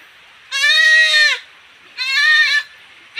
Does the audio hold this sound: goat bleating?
yes